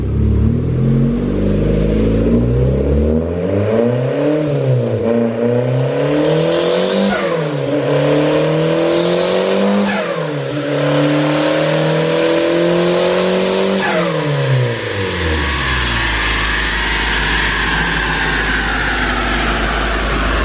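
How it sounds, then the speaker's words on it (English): A Honda Integra engine with a non-working blow-off valve revs up repeatedly through several gear shifts under medium acceleration, pitch climbing and dropping with each change, loud and close, then settling to a lower drone. "Just kind of run it through the gears like, you know, medium acceleration."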